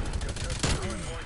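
Rapid automatic fire from a sentry gun in a Call of Duty multiplayer match, a dense burst of shots running the whole moment with a louder crack midway, heard under a talking voice.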